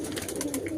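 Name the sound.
pet pigeons cooing during deworming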